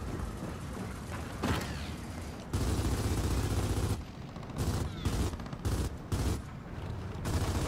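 Sustained bursts of blind-fire gunfire in Gears of War 4 Versus mode, dense and loud, with rapid automatic fire chopped into several stop-start bursts near the end.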